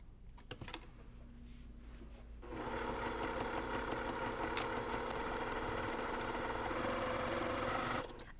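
A sewing machine runs steadily, stitching a quarter-inch seam in white thread for a cross-stitch zippered pillow border, a continuous close mechanical whir starting after a few quiet seconds and carrying on alone to the end.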